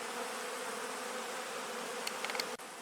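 Honey bees buzz around their hives at an apiary in a dense, steady drone that holds at an even loudness throughout, with a few sharper buzzes from individual bees passing close near the end.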